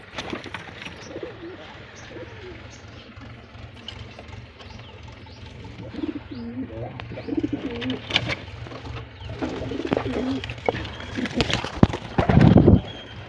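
Pigeons coo in a home loft at feeding time, with soft low repeated calls under steady background noise and scattered louder knocks, the cooing becoming more frequent toward the end.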